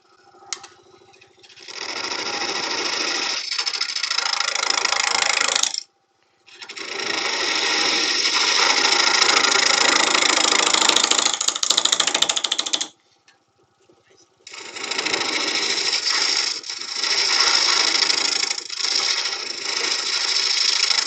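A wood lathe turning a Sri Lanka rosewood incense holder, with a loud steady whirring hum in three long stretches broken by two short stops.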